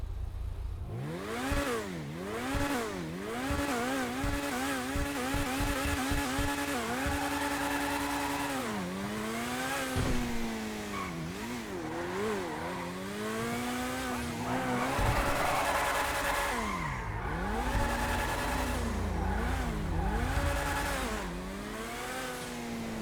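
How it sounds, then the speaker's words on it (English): A Vapid FMJ supercar in GTA Online revs and accelerates hard through rising and falling engine pitches, with repeated tire squeals and skids, loud and continuous throughout. "let's take a listen to the exhaust"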